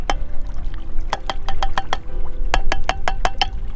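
Corn kernels poured out for fishing bait, a quick series of sharp clicking pellet impacts in two bursts over a low steady background rumble, close and fairly loud.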